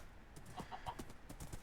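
Horse hooves clip-clopping in a ranch-themed video game, a faint, steady rhythm of light hoof taps at a walking pace against a quiet background.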